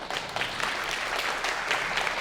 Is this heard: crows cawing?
no